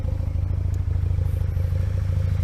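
Kawasaki ZX12R motorcycle engine idling steadily nearby with a deep, continuous rumble and faint mechanical clatter, no talking.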